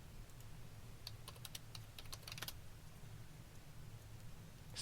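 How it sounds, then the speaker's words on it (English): Quick keystrokes tap on a computer keyboard in a short burst of soft clicks, faint and close over a low background hum, then the typing stops. "the way that you do that is by typing"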